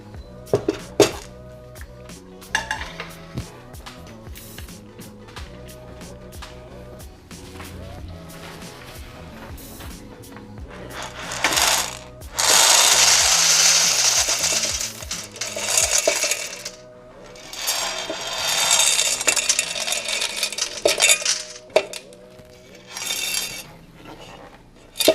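Freshly roasted coffee beans, done in a popcorn maker, poured into a colander in bursts of bright rattling clinks, loudest in a long rushing pour midway, then further scattered pours and pauses.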